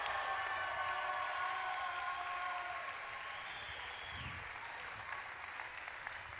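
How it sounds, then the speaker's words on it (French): A crowd claps steadily for several seconds at the closing ceremony of the Fêtes de Dax, a dense and sustained round of applause that tapers slightly toward the end. "applaudissez pour les encourager."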